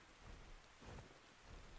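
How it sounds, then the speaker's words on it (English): Steady rainfall in the survival video game Ark Survival Ascended, a soft continuous hiss of drops with faint low rumbling, heard alone and quietly for a couple of seconds. "It's raining."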